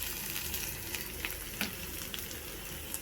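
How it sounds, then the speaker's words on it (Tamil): Ingredients for potato puttu sizzle and fry in a pan, a steady, faint crackling hiss with small pops and occasional stirring scrapes, no voices. "செவுக்க வறுக்கணும்."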